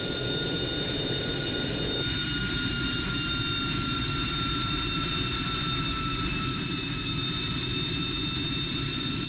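Jet engine of an RAF aircraft in Strike Fighters 2 roars loud and constant, with steady whining tones over a broad rush and no talk.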